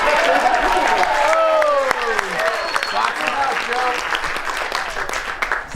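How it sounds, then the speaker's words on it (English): Sustained applause from an audience fills the room, with voices of the crowd and a few calls layered over the steady clapping throughout. "Can you give him a round of applause for that?"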